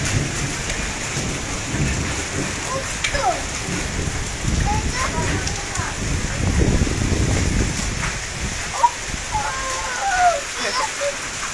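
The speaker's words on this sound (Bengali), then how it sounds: "আমরা শিলাবৃষ্টি দেখতে পাচ্ছি" Heavy downpour drumming continuously on surfaces with a low rumble of thunder, hard scattered impacts suggesting hail, and voices faintly in the distance.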